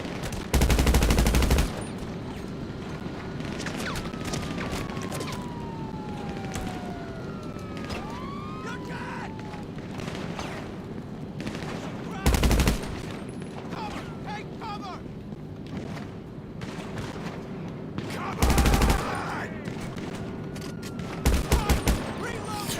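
Mark II rifle gunfire in GTA 5 Online rips out in loud bursts of rapid automatic shots, spaced several seconds apart, over a steady backdrop of wailing police sirens and distant combat noise.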